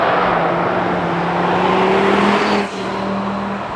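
An Audi RS3 drives along with a steady, loud engine drone and road noise heard from inside the car, the pitch holding level before a slight drop near the end, with no talking.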